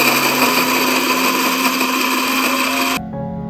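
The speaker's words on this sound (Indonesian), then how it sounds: "Sekarang kita blender cabenya dulu ya." Boiled chili peppers being puréed in a kitchen blender for beef meatball soup; a loud, steady motor whir and grind runs continuously for about three seconds, then cuts off abruptly into a quiet room hum.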